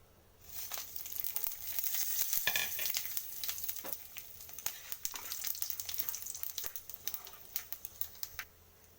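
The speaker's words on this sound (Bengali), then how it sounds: "এই তেলেতেই আমি করে নেব ফোড়নটা দিয়ে দিলাম" Whole spices and chili sizzle and crackle in hot oil in a Bengali kitchen, left after frying a hilsa fish head. The frying is close, with sharp popping bursts over a steady hiss and no talk.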